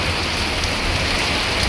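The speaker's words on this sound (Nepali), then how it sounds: "ठुलो पानी आएको छ।" Heavy rain pours down in Kathmandu as a dense, loud, unbroken hiss of drops hitting surfaces close by, with no voices.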